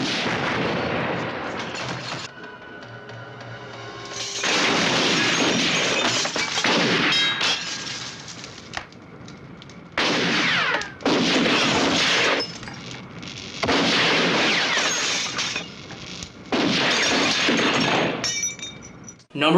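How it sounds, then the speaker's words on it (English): Bursts of gunfire and shattering glass from tactical shootouts in East Asian action films, loud clustered volleys separated by short quieter gaps with occasional speech. "This is the best gunplay I've ever seen"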